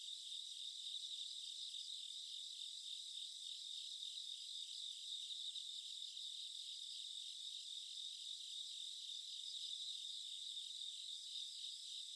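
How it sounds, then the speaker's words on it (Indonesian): Cicadas drone continuously in a highland forest camping area, a dense, steady high-pitched buzz with a fine pulsing texture, fairly loud and unbroken with no other sounds. "Suara tonggeret,"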